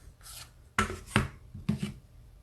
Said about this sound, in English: I know it's going to be too big though, so I'm going to trim it a little.